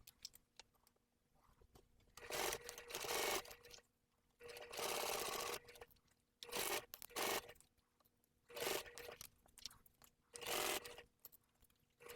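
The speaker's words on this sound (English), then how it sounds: "we're going to top stitch again along that bottom curved edge." A sewing machine top stitches along the curved bottom edge of a clear jelly vinyl tote bag, running in several separate bursts of steady whirring with short quiet pauses between them.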